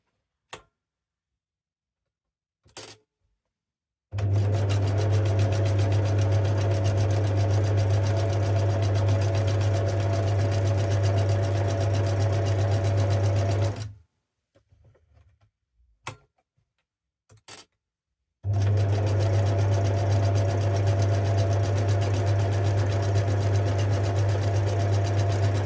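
Sewing machine zigzag stitching a fabric envelope runs loud and close in two long steady stretches of humming, rapid ticking, separated by quiet pauses with small handling clicks.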